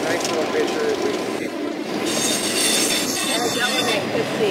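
A passing train rumbles and rattles with wheel squeal, loud and close, while voices murmur in the background.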